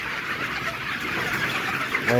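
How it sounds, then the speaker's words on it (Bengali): Sonali chickens cluck steadily in a poultry shed, a continuous soft flock chatter at close range, with a voice speaking over it. "চলেন আমরা এখন সোনালি মুরগির এতে যায় আলহামদুলিল্লাহ এই মুরগিগুলো ভালো আছে"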